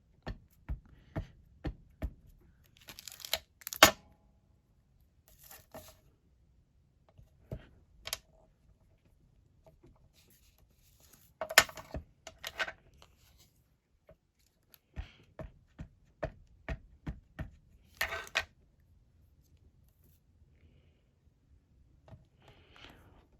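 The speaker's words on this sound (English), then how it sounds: "I'm going to stamp a few of these and I'll cut them out" Rubber stamps press down onto paper and paper stamps are cut out, giving a series of sharp close taps and clicks in irregular clusters, separated by quiet pauses.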